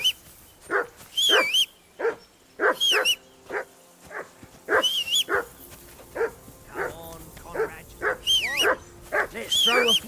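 Repeated barking from a dog in the video game Kingdom Come Deliverance 2, a dense run of loud, close barks in quick bursts with short gaps, broken by occasional higher yelping whines.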